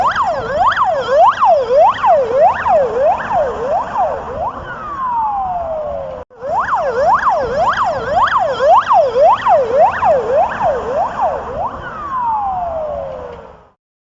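An ambulance siren wails loudly and close by in rapid repeating rising and falling cycles. It cuts out for an instant partway through, then resumes and ends on a long descending tone.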